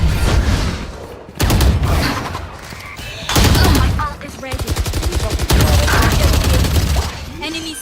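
Bursts of gunfire from the tactical shooter Valorant, with rapid automatic volleys and single sharp shots ringing out loud and close in quick clusters, speech faintly mixed beneath.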